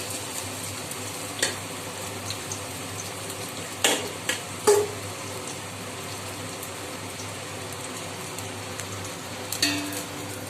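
Rice is added and stirred in a pan for veg biryani, with a low continuous frying crackle and occasional scraping clinks of a spoon against the pan.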